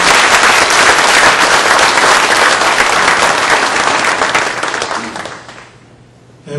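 Party members clap together at a Democratic Party New Year ceremony, a loud, dense wash of applause that holds steady for several seconds before thinning and fading out near the end.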